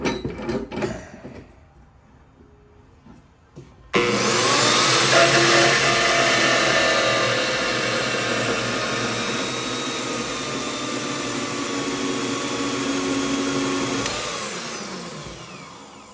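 A Vevor bandsaw cutting aluminum: a quiet motor hum at first, then a loud, steady, high grinding whine as the blade bites through the metal for about ten seconds, easing off near the end.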